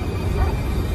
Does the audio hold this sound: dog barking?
yes